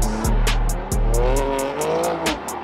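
A car engine in a driving simulation game bouncing off the rev limiter, making a loud, rapid, evenly spaced stutter of cut-off pulses over a held high-revving drone.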